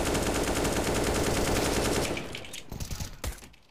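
Sustained rapid automatic gunfire in a multiplayer shooting video game, loud and dense for about two seconds, then thinning into a few scattered separate shots as the volume drops.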